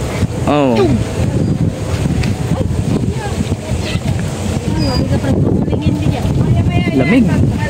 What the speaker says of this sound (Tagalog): Lamig ng hangin.